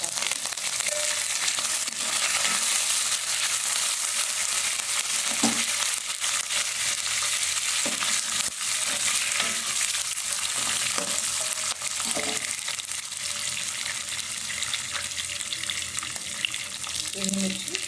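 Curry leaves and dried red chillies roasting in a pan for mango pulihora, giving a steady soft sizzle with occasional stirring scrapes throughout, no talk.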